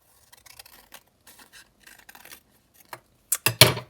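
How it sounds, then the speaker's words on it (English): Scissors trim the paper edge of a junk journal pocket, with faint quiet snips early on and then several louder, sharper cuts close up near the end. "I'm just going to trim off this bit from the edge"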